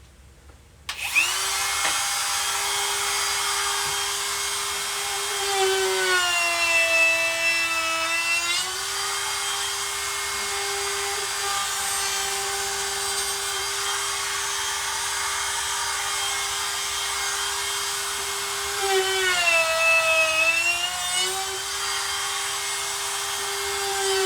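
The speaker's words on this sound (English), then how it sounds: "I'm just going to put a quick chamfer on all these" Power tool, likely a router, chamfering the edges of epoxy and wood plates: a loud steady high whine that starts abruptly and dips in pitch twice as the bit bites into the material.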